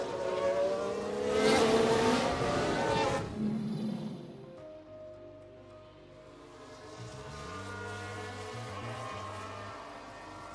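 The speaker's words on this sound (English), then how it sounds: "Now we see the Williams here. What a spin!" A Williams Formula 1 car spins during an F1 Manager 2022 race replay: a loud, rough roar of engine and tyre noise for about three seconds, then a lower, steadier engine drone with shifting pitch.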